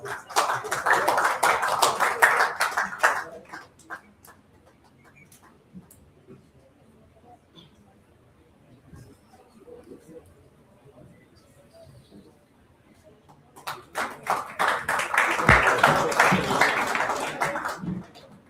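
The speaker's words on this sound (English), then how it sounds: "Please give sir a huge round of applause." Audience applause at a university orientation program: a burst of clapping opens, fades to quiet murmur for several seconds, then a second loud round of applause rises near the end.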